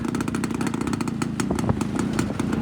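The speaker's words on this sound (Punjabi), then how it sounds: "ਸੇਵਕਾ ਮੋਟਰਸਾਈਕਲ ਦੇ ਪਤੰਦਰਾਂ ਨੇ ਕਿੱਦਾਂ ਬਣਾ ਕੇ ਰੱਖਿਆ ਇੱਧਰ" A motorcycle engine running close by, a rapid, continuous thumping putter at steady revs with no voices.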